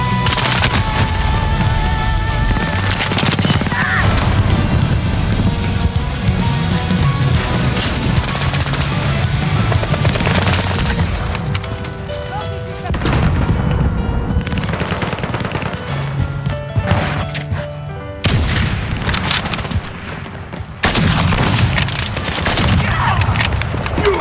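Intense Call of Duty Modern Warfare multiplayer combat: rapid bursts of automatic gunfire and a grenade explosion, loud and dense, with game voice callouts mixed in.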